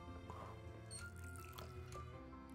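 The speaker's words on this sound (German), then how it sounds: "Wasserspender." Water dispenser in the adventure game The Captain dripping and gurgling, with a few soft liquid drips and squishy splashes over a steady game background hum, close and moderately quiet.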